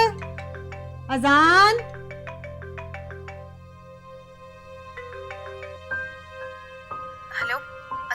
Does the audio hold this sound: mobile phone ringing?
yes